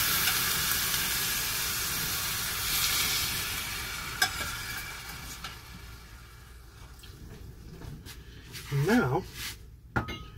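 Pumpkin risotto with vegetable broth is stirred in a pan, a soft scraping and faint sizzle under a person talking, with a few clinks and a brief splash near the end.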